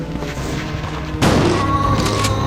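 A shotgun blast in the video game Resident Evil 2, one loud booming shot that cuts sharply through the steady game sound and leaves a lingering rumble, with no talking.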